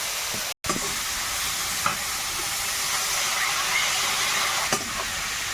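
Water poured into mustard paste frying in a pan brings a steady, close sizzle and hiss with faint stirring scrapes, broken by one brief dropout.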